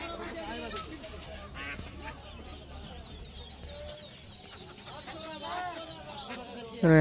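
Domestic desi ducks quack and honk repeatedly amid a busy market at Birnagar haat in Nadia, with people talking nearby over the bird calls.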